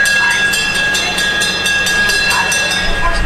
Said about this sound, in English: there's that infernal train again. It's so noisy.